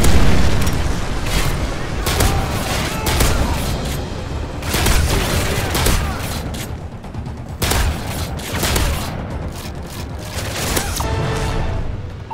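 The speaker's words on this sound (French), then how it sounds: "Missile Predator allié en approche." Heavy explosions and gunfire from a Predator missile strike in Call of Duty Modern Warfare 3, a series of loud booms and bursts over a dense battle din, with game voice announcements mixed in.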